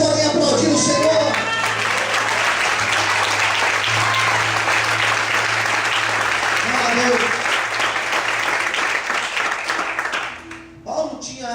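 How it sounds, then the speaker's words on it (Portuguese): A church congregation applauding together, loud sustained clapping from a large crowd that holds steady for about ten seconds before tapering off, with a voice heard at the start and end. "Quantos podem aplaudir o Senhor?"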